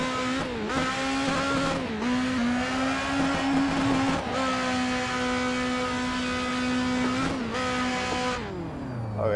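Ferrari 458 V8 engine swapped into a Scion FR-S, screaming at high revs with steady wailing pitch, brief dips between gear changes and some tire squeal, loud and close with no talking.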